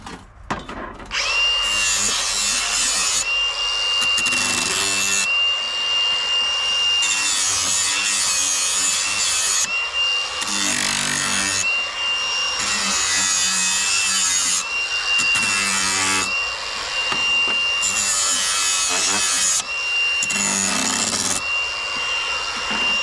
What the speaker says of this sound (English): Deburr the edges just a little bit.